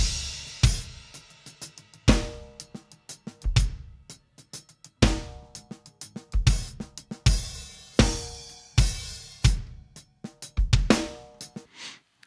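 Drum bus from a gospel mix of a song: punchy kick and snare hits with crashing cymbals in a steady groove, loud and close, with no talking.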